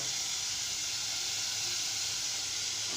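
Potatoes for aloo methi bhujia sizzling as they are added to a hot pan, a loud continuous bright hiss of frying that holds steady throughout.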